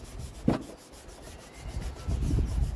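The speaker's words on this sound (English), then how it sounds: "Give that a little scrub down" Plastic cap of a Lister Lucas magneto being scrubbed, a brief close rasp followed by a pause, then a steadier rubbing scrub building toward the end.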